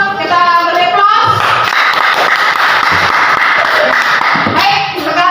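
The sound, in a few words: audience applause for a group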